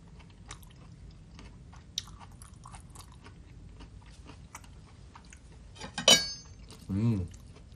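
Korean catering food is eaten at a concert venue in Jakarta, with soft, faint chewing giving way to a sharp clink of tableware and a louder crunchy bite near the end.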